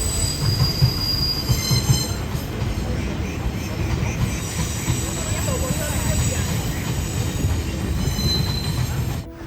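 A train passes on railway tracks overhead near Hualien station in Taiwan. Its continuous loud rumble is laced with high, sustained wheel squeal, and people talk underneath it.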